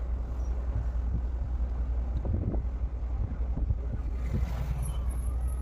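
Strong wind blows steadily past the blazing Trident factory fire at Barnala, a continuous low rumble of gusts buffeting the microphone, with no speech.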